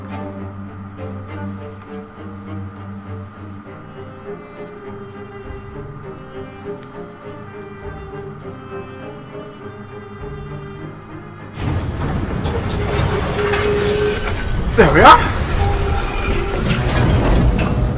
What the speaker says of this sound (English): There's a train, good sir.